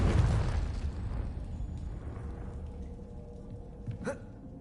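A Confringo spell explosion in the video game Hogwarts Legacy, a loud fiery burst at the start that fades into a crackling rumble, followed by a short pop.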